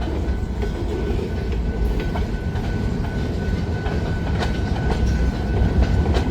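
An SD9 locomotive leads a freight train north from the CN yard in Green Bay, a steady loud rumble of rolling cars with rhythmic wheel clatter close by, no voices.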